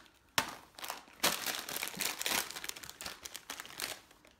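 Plastic packets of popping corn being ripped and crinkled open by hand, with a sharp tear near the start and another about a second later, followed by steady crackling and crinkling, close and fairly loud.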